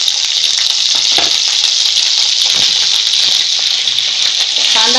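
Ginger garlic paste hitting hot oil in a pan for Kolhapuri mutton gives a loud, steady, hissing sizzle that runs unbroken throughout, with faint clatter under it.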